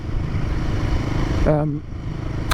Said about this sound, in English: But this is a peppy engine, even in this heavier Himalayan.